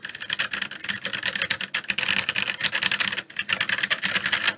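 Rapid, steady typing on a compact Keychron C1 mechanical keyboard with brown switches, a dense run of soft tactile clacks with a brief pause near the end, close and alone.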